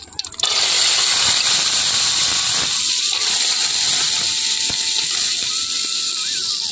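Chana dal hitting hot oil in a wok bursts into a loud, steady bright sizzle after a brief clatter, holding strong throughout with faint scraping, while a voice speaks over it.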